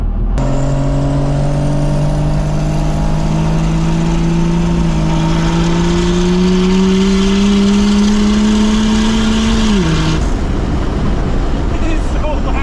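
A first-generation Cummins diesel truck engine revs loudly, its pitch climbing steadily for about ten seconds before dropping off sharply, heard close and with road noise.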